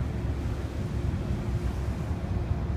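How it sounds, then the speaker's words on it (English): Steady low rumble of water and wind aboard a river barge crossing the Mississippi River, with constant buffeting wind noise and churning water filling the whole stretch, no voices. "crossing the Mississippi River here on a river barge."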